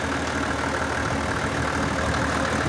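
A gasoline motor pump used as a watering pump station runs steadily at idle, a loud, continuous close-up engine drone with a rough, knocking texture and no pauses.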